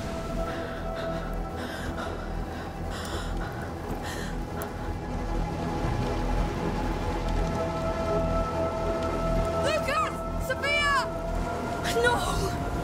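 Heavy rain pours steadily during a worsening storm in the video game A Plague Tale Requiem, a dense continuous wash with voices talking over it near the end.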